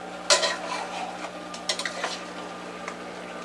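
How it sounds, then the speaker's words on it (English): A spoon stirs vanilla into a mixture in a bowl, a few sharp clinks against the dish among soft scraping swirls, close and fairly quiet with no talking. "Now I'm going to stir that around a bit."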